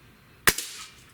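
A single sharp report from a Barra 1200 break barrel air rifle, close and loud, with a short springy after-ring and no talk around it.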